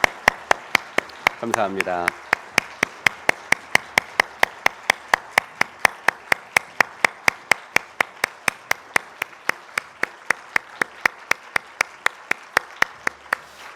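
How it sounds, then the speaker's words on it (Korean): A church congregation at a Christmas thanksgiving service claps in a steady, even rhythm, loud and close, sustained throughout with a brief spoken phrase near the start. "하나님께 영광의 박수 올려드리겠습니다"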